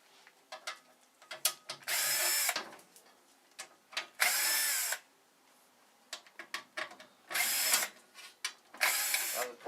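A power drill backs screws out of a Heat Surge electric fireplace fan in several close, loud whirring bursts, with clicks and handling noises between them.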